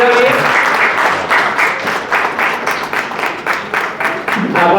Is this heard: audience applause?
yes